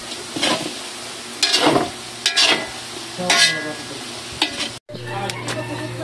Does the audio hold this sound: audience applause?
no